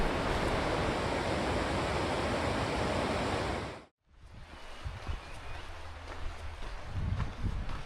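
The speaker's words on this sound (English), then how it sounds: "More gorges with fast flowing water" Fast-flowing water rushing through a gorge on the Snowdonia Slate Trail makes a loud, dense, steady roar that cuts out abruptly, then gives way to quieter, softer rushing.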